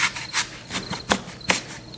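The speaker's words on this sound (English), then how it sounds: "Crickets, right?" A cricket-chirping sound effect plays as faint, evenly spaced raspy chirps, about four bursts over two seconds, with no voices.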